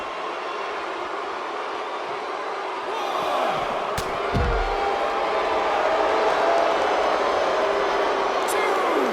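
A wrestling crowd in Allentown at a WWA High Risk event roars in a steady, loud wash of cheering, with a sharp thud partway through and a commentator talking over it.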